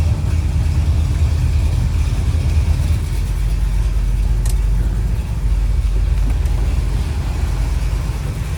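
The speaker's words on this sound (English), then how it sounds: "That 390 under the hood runs great" A 1966 Ford Fairlane GT with a 390 V8 idles in a steady, low, continuous rumble, close by and without speech.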